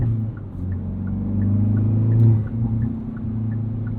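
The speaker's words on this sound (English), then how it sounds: "A little pops on the down rev." A 2022 Hyundai Veloster N with a six-speed manual heard from inside as the engine rumbles and swells through a rev-matched downshift, with faint light popping from the exhaust over the low, steady drone.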